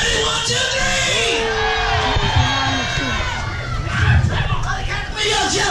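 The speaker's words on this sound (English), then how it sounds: "On a count of three, everybody yell go." A crowd at an outdoor event shouts and cheers together in a loud, sustained roar of mixed voices, with some higher children's yells rising above the mass.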